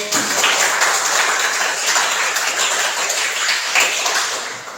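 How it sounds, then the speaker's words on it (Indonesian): A classroom audience applauds a student group returning to their seats, a dense, steady wash of clapping that holds for several seconds before tapering off. "Tepuk tangan untuk"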